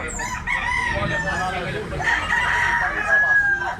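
A young white hackle gamecock crows in a long drawn-out call at a rooster sale in Tabunok, Cebu, near and loud over steady background chatter.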